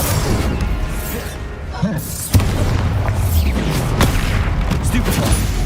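Bombarda explosion spell from Hogwarts Legacy lands with a sharp boom around the middle, amid ongoing combat rumble, crackle and scattered impacts.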